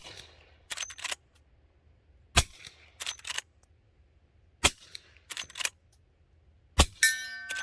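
A suppressed lever-action rifle firing subsonic rounds outdoors in snow: four sharp, dry cracks spaced a couple of seconds apart, each followed by quick metallic clacks of the lever cycling, with quiet stillness between.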